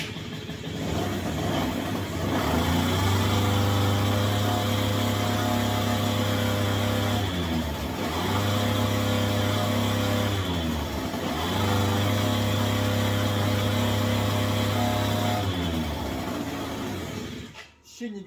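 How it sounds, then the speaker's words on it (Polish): A warmed-up Yamaha Aerox scooter engine runs steadily, revving up and down in repeated cycles with a buzzy, droning tone, close and loud, cutting off at the end. "zobaczcie, co się dzieje na ciepłym silniku"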